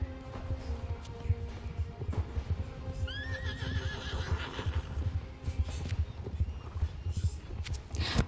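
Horses in a video game whinny loudly mid-clip over steady clip-clop of hooves, with a low rumbling backdrop throughout.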